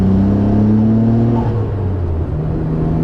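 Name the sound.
1992 Nissan R32 Skyline GTR accelerating, turbos coming on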